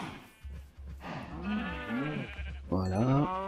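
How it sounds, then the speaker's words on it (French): Sheep in the video game Minecraft bleat in a few wavering, nasal calls, loud and close, the last one strongest, with a low steady hum beneath. "Papy, il est en train de se disputer avec les moutons."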